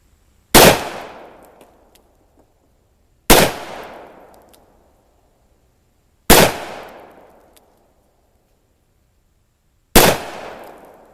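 Four loud .357 Magnum rounds fired one at a time from a Taurus 605 revolver, each sharp crack spaced a few seconds apart with a short ringing decay.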